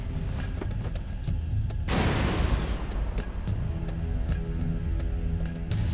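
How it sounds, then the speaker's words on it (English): Grenades thrown down a mine shaft, a sudden booming blast followed by a crackling, rumbling decay amid a ticking clock-like rhythm, with no voices. "Grenades were thrown after them in an attempt to collapse the walls."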